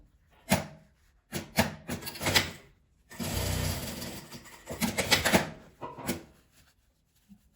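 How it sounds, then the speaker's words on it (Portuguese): Sewing patchwork fabric for a small keychain pouch, with a few short bursts of machine stitching and fabric handling, including a longer run in the middle, close and moderately loud with quiet gaps between. "Costura bem na beiradinha, nessa parte, nesse pesponto."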